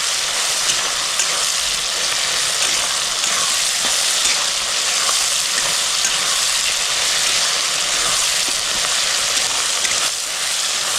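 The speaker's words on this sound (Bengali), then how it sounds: "টমেটো দিয়ে 1 মিনিট মতো ভালো করে কষাই নেব।" Tomato fries in hot oil and is stirred for a prawn curry (golda chingri kalia), giving a steady, loud, continuous sizzle and hiss with no pauses throughout.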